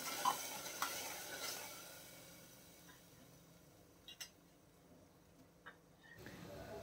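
Tomato puree for a keema aloo dish sizzles faintly in a pan, with soft scraping from stirring and a few light utensil clicks against the pan, close and quiet.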